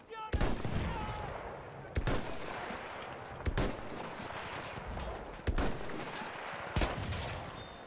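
Rifle fire in the Battlefield 1 video game, loud sharp shots cracking out roughly every one to one and a half seconds over a constant rumble of battlefield background noise.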